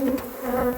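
Bees buzz close by in a steady, wavering drone with a strong, clear tone that swells and dips slightly, heard on their own without speech.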